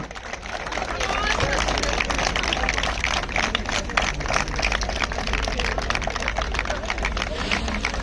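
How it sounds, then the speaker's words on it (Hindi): A crowd gives loud, continuous applause for children finishing a marathon organised by the Indian Army in Rajouri, with a voice over a loudspeaker speaking on top of it. "इन सभी बच्चों के लिए जोरदार तालियां।"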